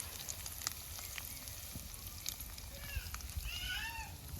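Dried red chillies, chana dal and urad dal crackle and sizzle steadily in hot oil in a Tamil kitchen tempering, with a few brief high chirping squeaks near the end and no talking.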